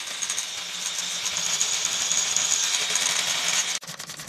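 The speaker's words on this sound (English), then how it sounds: "It's like an electric toothbrush, but meant for cleaning." A Rubbermaid Reveal electric power scrubber buzzing steadily as it scrubs a shower door hinge, a close, continuous whirring hum that cuts off abruptly near the end.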